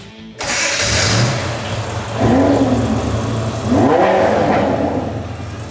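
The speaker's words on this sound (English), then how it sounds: "Gentlemen, start your engines." A Lamborghini and a Ford Model A hot rod start up together, a loud engine roar that holds steady and swells twice with revving, close by and with no talk.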